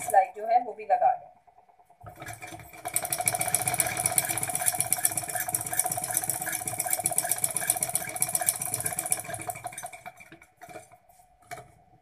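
Sewing machine stitching piping onto a designer neckline, a steady close mechanical whir running for about eight seconds after a short spoken moment at the start.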